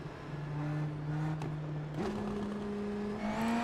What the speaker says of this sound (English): listen to that engine, dude. All those, like, burbles.